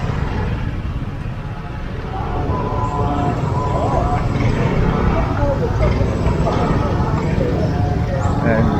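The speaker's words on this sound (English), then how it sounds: "And the traffic is building up this time of the morning." Thai street traffic during the Songkran water festival rumbles continuously in a busy, noisy outdoor scene, with engines and a dense background wash heard close by and steady throughout.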